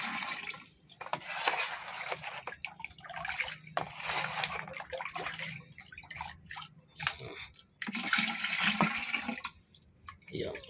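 Liquid fertilizer is poured and stirred for watering a durian tree, giving a faint, uneven splashing and trickling with short pauses and sloshing surges, alongside some quiet talk.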